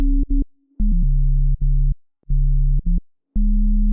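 Pure, buzzy wavetable synthesizer tones step between a few low pitches in short sustained notes separated by brief silences.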